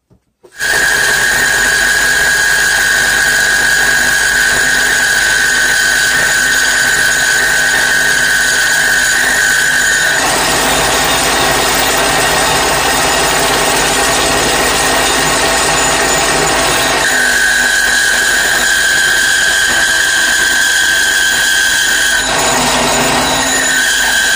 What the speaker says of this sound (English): I'm going to try speeding up my drill press